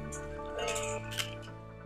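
Plastic straws dropped into a metal bowl during a toddler's sensory play activity, giving a few light, ringing clinks against a steady background hum.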